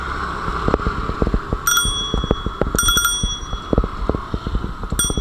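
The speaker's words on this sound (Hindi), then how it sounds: "इसकी जो घंटी है वो थोड़ा ख़राब सी हो गई है" A public bicycle's bell ringing in several short bright bursts, close and loud, over steady rolling and rattling noise from the bike.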